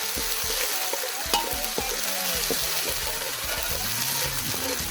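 Holy basil and pork being stir-fried in plenty of oil in a pan outdoors in a garden, with steady close sizzling and repeated scraping, clattering spatula strokes throughout.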